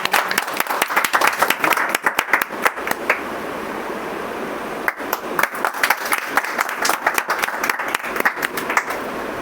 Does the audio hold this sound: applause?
yes